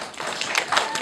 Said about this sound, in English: let's save the claps till the end